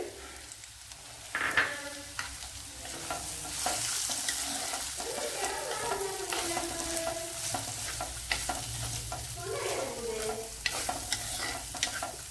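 Carrot and beans being stirred into leftover puttu in a frying pan: a steady sizzle with continuous scraping and stirring strokes, close and moderately loud, with no one talking.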